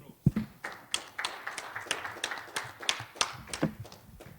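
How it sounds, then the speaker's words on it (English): A small round of clapping at a national conference on biodiversity funding, a few pairs of hands tapping out uneven, fairly close claps that carry on steadily for several seconds with no one talking. "I think you deserve a round of applause"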